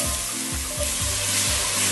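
Tomato goes into a sofrito frying in a pan, giving a steady, close sizzle with a few soft stirring scrapes. The dish is cabeza de gato, a traditional Caribbean-coast plate. No one speaks.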